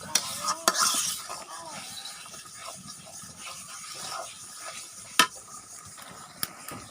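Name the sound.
stirring chopped tomato into sautéing spice paste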